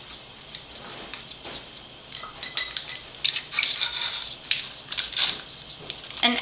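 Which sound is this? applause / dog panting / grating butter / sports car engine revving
grating butter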